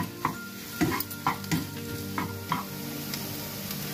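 Potatoes being roasted in a pan on a medium flame for masala dosa, a low sizzle punctuated by six or seven evenly spaced spatula scrapes and taps, close and moderately loud.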